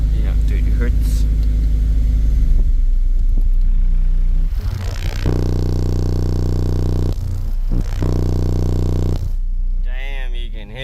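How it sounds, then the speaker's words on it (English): Two DD815 15-inch subwoofers in an infinite baffle setup, driven by about 1800 watts, rumble with a deep, loud low tone at 30 Hz, bottoming out with steady booming bursts and short pauses between runs. "you can hear them bottoming out on that run at 30 hertz"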